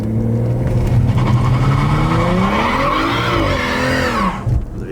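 A BMW F30 doing a burnout in sport mode with traction control off, its tires spinning and squealing in long rising and falling screeches over a loud, steady engine roar, close by, with no talking.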